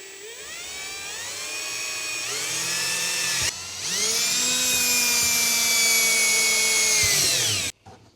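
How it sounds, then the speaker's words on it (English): A power drill bores mounting holes for a Pelican case tour pack, whining loudly and close in two long bursts that ramp up in pitch, with a short pause between them and an abrupt stop. "And now we drill."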